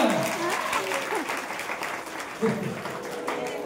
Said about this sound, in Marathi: टाळ्या वाजवा, टाळ्या.